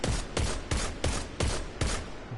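Rapid bursts of weapon fire in the Destiny raid Spire of Stars, six evenly spaced volleys over about two seconds, loud and close with no talking.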